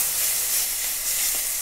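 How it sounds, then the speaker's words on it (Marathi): Onion, curry leaves and tomato fry in a pan for a spicy brinjal curry, giving a steady, loud, close sizzle with no talking. "तर कांदा चांगला भाजलेला आहे, थोडासा कढीपाला पण टाकून घेते आणि टमाट्यातला ओलसरपणा जाण्यासाठी त्यातलं थोडं पाणी कमी होण्यासाठी टमाटर पण भाजायला टाकलेलं आहे मी।"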